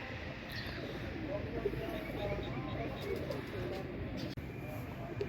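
Pigeons softly cooing around a backyard loft and nearby tree, with a few low, faint coos under constant outdoor hiss.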